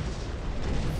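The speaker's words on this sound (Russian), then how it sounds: "Фига там взрывы." Loud, dense rumbling blasts from explosions in the video game Tower Conquest during a castle assault, a continuous booming roar filling the short moment with no talking.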